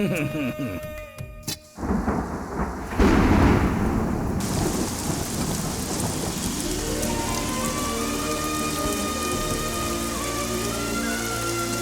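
Heavy rain pours down with thunder: a sharp crack and rolling rumble lead into a loud, continuous downpour with drumming drops that carries on steadily to the end.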